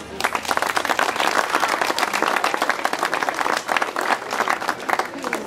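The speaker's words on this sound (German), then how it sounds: "verdient zumindest mal den Applaus der hier anwesenden Ehrengäste." Guests of honour at a THW youth camp event in a Schweinfurt wildlife park applaud together, a loud dense patter of many hands clapping steadily for several seconds.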